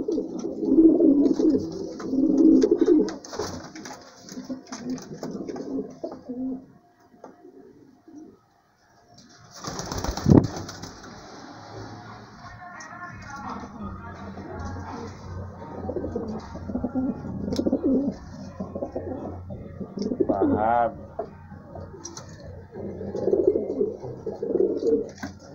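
Homing pigeons coo in low, rolling murmurs that come and go over about half a minute, close by in a loft, with a sudden burst of wing flapping and scuffling partway through.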